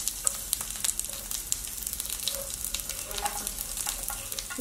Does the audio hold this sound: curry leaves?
yes